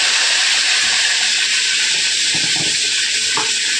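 Chilli powder sizzles in hot oil in a village kitchen, a loud, steady hissing fry that continues without a break, with a few faint clinks beneath it.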